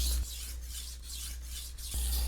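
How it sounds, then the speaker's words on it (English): Close, quiet rhythmic scraping as a kitchen knife blade sweeps in arcing strokes across a whetstone, several even back-and-forth passes. "you can make a sweeping arcing motion across the stone and then flip to the"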